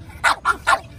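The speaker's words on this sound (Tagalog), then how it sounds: "Ang tahol niya, ha?" Three quick, high-pitched barks from a two-month-old puppy, evenly spaced and close, with nothing else around them.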